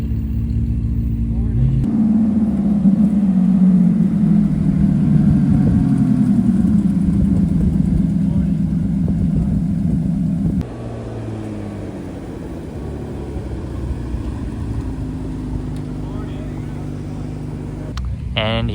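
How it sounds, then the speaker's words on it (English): Several Ferrari sports cars, including a 296, idle and begin rolling out during a fall cruise event in a small town, producing a steady low engine rumble that stays loud throughout and eases off slightly partway through, with people talking nearby. "I think we should be seeing a lot of Ferraris rolling out here very soon"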